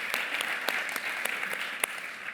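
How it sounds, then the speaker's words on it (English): A design summit audience claps in a brief, moderate round of applause with distinct individual claps standing out near the front. "Round of applause for that, right?"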